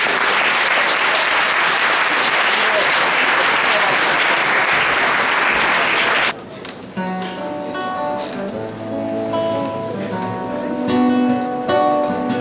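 Loud, dense audience applause at a school Christmas show fills the hall for about six seconds, then stops abruptly as soft music begins.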